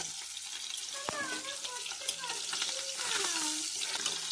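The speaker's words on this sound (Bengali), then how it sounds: "আমি একটু মাছটাকে উল্টে দিই" Fish, a small bata fish, frying in a pan in a home kitchen, giving a steady soft sizzle with a clink as it is turned, while someone talks over it.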